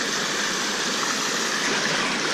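A mountain stream on the Appalachian Trail near Loft Mountain pours steadily in a dense, even rush close by, with no voices.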